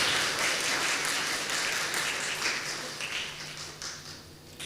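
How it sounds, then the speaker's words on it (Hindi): An audience claps steadily in welcome of Sister Mary, a dense, sustained round of applause that fills the room and tapers slightly toward the end. "तो एक बार उनको स्वागत के रूप में ताली बजाइए सिस्टर मेरी"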